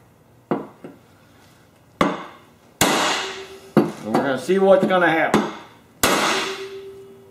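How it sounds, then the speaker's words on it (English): Several loud, ringing metal clanks from a hammer striking a big steel bar against the bent deck of a mower, spaced apart, with someone talking between blows. "I'm going to hit on these ears with this big bar and this hammer."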